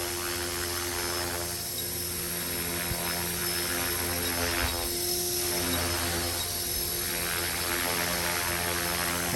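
A Trex 450 RC helicopter running a Flywing H2 GPS flight controller hovers and darts nearby, its small rotor and motor whining in a steady high drone that swells slightly as it moves.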